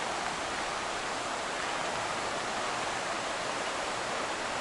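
Buck Creek runs beside a campsite at an RV park in Marion, North Carolina, a steady broadband rush of flowing water that stays even and moderately faint throughout, with no voices.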